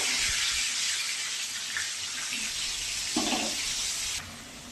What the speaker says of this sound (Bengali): তেলটা গরম হয়ে গেছে এবার আলুগুলো দিয়ে দিচ্ছি